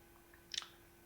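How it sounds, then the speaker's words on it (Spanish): A computer mouse double-clicks while selecting text in Photoshop, two quick, faint, close clicks in an otherwise quiet room. "seleccionamos haciendo doble clic"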